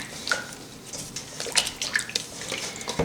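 Fish pieces are rubbed and washed by hand in a bowl of water, giving close splashing, sloshing and dripping sounds with occasional light clinks, with no talk.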